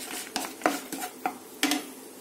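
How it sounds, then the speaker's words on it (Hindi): A spoon stirs onion into spices frying in a pan for paneer curry, producing a handful of distinct metallic scrapes and clinks over a faint sizzle, close by and with no talking. "ओनियन लिया है और इसको अच्छे से मिला लेंगे।"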